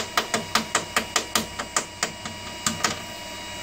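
Hot nozzle being unscrewed from a MeCreator2 3D printer with a socket, producing a close, rapid series of evenly spaced ratcheting clicks that slows slightly near the end.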